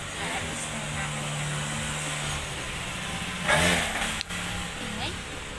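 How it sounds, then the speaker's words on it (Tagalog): Motorcycle engines drone past on a busy street, with one passing louder and closer partway through, over constant traffic noise. "Ang ingay ng mga motor."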